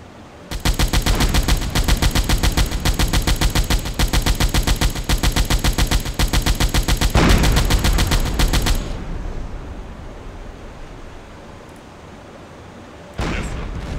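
A submarine deck gun fires rapid repeated rounds in Silent Hunter 4, loud and close, in long steady bursts for about eight seconds, then fades to a low rumble before one more burst.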